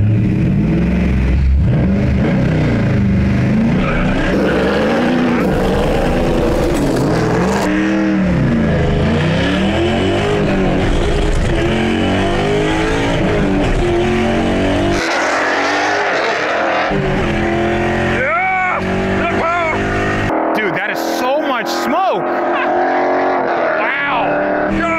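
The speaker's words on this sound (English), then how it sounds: "That's how you light up the tires." Car doing a burnout, engine roaring and revving hard with tire squeal throughout, loud and close, the pitch surging and dropping over a long stretch while a person speaks over it at times.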